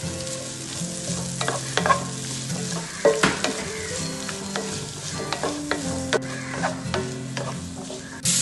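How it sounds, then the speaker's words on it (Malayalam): Onions sauté in oil in a pressure cooker for beef biryani, a steady close sizzle broken by repeated scrapes and knocks of a stirring spoon against the metal pot, with no voices. "ഞാനിതാ ഉള്ളി ഇടുന്ന് വാട്ടാൻ വേണ്ടിയിട്ട്"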